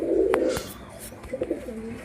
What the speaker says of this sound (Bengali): দেখুন পায়রাটা, এটা একটা নর পায়রা